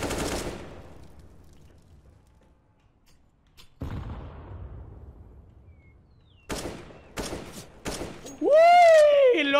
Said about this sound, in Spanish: Estos son tiros.